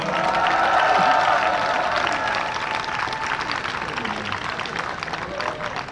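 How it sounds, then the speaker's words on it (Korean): Applause from a crowd at a Seoul National University student and alumni rally, dense clapping mixed with murmuring voices, gradually thinning out. "큰 박수 부탁드리겠습니다."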